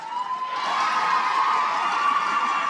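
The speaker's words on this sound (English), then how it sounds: "listen to the crowd roar" Crowd roaring and cheering at a varsity match between Cardiff Met and the University of Bath, a loud sustained swell of many voices shouting together, rising slightly and holding steady.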